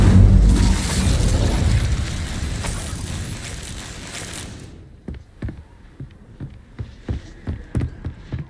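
Incendio fire spell cast in the game Hogwarts Legacy, a loud roaring burst of flame that fades over several seconds, followed by a series of sharp thuds and footstep-like hits.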